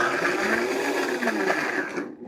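A Vitamix blender purees onions and garlic for homemade pizza sauce, a loud continuous motor whir with churning texture that runs steadily and then cuts off abruptly near the end.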